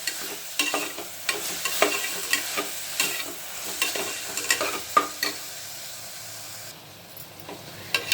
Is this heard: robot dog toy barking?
no